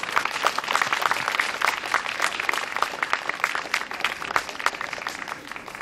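An audience applauds a family bluegrass gospel band at an open-stage evening, with steady, lively clapping that carries on evenly for several seconds with no talk over it.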